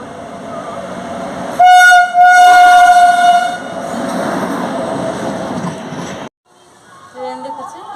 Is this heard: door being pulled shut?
no